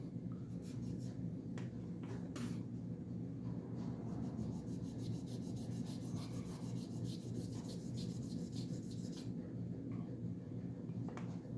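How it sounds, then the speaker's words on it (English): Hand sanding of knife parts for a Cold Steel Recon 1 on a very flat surface: a steady, continuous scratchy rubbing that goes on throughout, close and fairly quiet, with no talking. "I like to always sand on a real flat surface"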